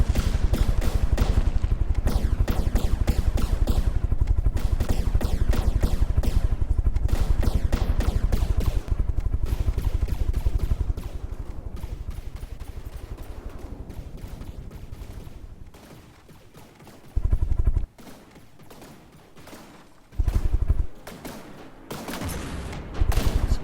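Dense, rapid gunfire and missile launches in a video game battle pound almost continuously at first, then thin out into quieter stretches broken by a couple of loud bursts near the end.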